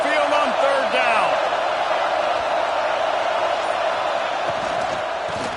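Roaring stadium crowd noise from an Alabama home crowd at Saban Field in a college football video game, Vanderbilt against Alabama, a loud continuous wall of cheering and whooping with voices shouting through it.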